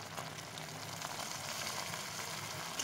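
Onion paste fries in a pan for a home-style chicken and potato curry, giving off a soft, continuous sizzle at low volume with no talking.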